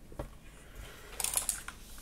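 Typing on a budget mechanical keyboard with blue switches, a short run of quiet clicky keystrokes with a few sharper presses near the middle, heard alone.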